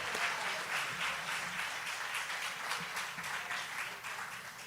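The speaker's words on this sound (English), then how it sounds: "Let's give him another round of applause." Sustained applause from an audience at an awards ceremony honoring trailblazers, a steady wash of many hands clapping at moderate distance, with no speech over it.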